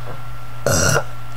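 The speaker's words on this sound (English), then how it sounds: "I have to burp." A single loud, close burp from a teenage speaker, lasting about a third of a second, follows a quiet pause with a low steady hum in the background.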